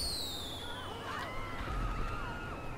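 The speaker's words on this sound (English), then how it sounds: "got a firework launcher." A firework launcher fires in Grand Theft Auto V on a snowy day, giving a faint whistling rise and crackling burst over a steady background hum from the game.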